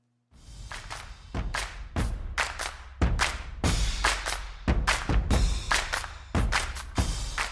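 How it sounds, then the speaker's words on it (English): Burpees done as a workout warm-up, with a series of heavy thuds as the body drops to the floor, each followed by a sharp clap, repeated at a steady rhythm of roughly one per second. "Chest and thighs hit the ground, snap those feet in, little jump and clap at the top."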